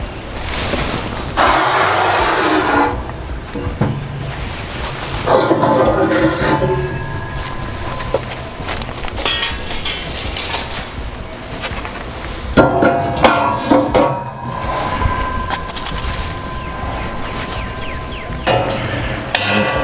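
Burning charcoal dumped into a Lone Star Grillz fire management basket on an offset smoker, heard as repeated metallic clanks and scraping clatter in several bursts, fairly loud and close, with no talk.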